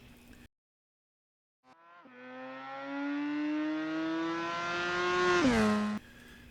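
A rotary-powered Mazda Furai race car holds one loud, steady engine note after a short silence, rising slowly in pitch, then jumps sharply in a quick rev before cutting off.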